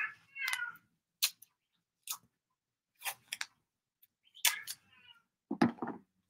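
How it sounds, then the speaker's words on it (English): A house cat meows and chirps repeatedly indoors at a crafting desk, a string of short close vocal calls with brief pauses, the last one louder and lower, no talking over it. "Oh, my cat's gonna be noisy for you guys."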